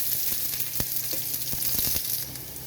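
Snails and small onions sauté in a hot pan, a steady close sizzle with several sharp clicks and stirring knocks scattered through it, no voices.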